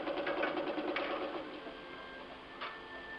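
Willcox & Gibbs treadle-driven chain stitch sewing machine running, a soft rapid mechanical whirr and ticking that stays even and close before easing off near the end.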